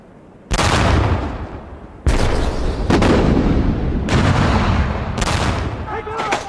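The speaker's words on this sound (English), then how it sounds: "British artillery began pounding the German defences." British artillery shells German defences in a World War I battle recreation, with several deep rolling booms and blasts arriving in quick succession, loud and reverberant, merging into a continuous rumble of bombardment.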